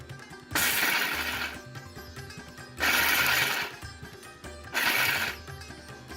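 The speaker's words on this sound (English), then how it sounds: "So I just gave the mixer a pulse once or twice" A mixer grinder is pulsed three times to coarsely chop dry fruits, each burst a loud whirring rattle of nuts about a second long, separated by short quieter gaps.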